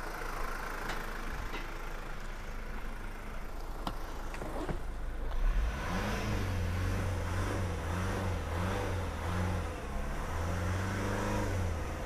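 A car engine idles and then revs up several times in a steady rhythmic pattern while its alternator charges an EcoFlow Delta Pro power station; a low, continuous, fairly close drone with no talk.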